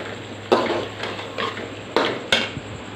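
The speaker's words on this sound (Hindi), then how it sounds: "अभी हम इसको डिश आउट करते हैं जी" Beef bhuna keema being spooned from a cooking pot into a serving dish, with four or five sharp metallic clinks and scrapes of a spoon against cookware, close by, over a low steady hum.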